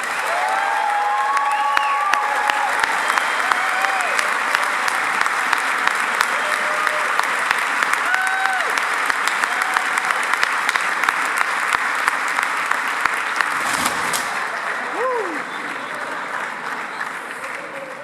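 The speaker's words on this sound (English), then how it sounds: "how about one more round of applause for Walton Honors 23?" Sustained, loud applause from an audience at an honors ceremony, dense clapping mixed with scattered whoops and cheers, continuing steadily for the whole stretch.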